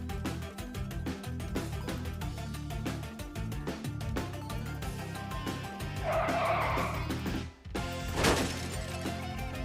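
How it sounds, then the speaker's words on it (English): A car skids and spins out with screeching tires over music, squealing and scraping as it loses grip, followed by a brief sharp impact-like burst near the end. "This guy had to do something wrong behind the wheel to spin out like that."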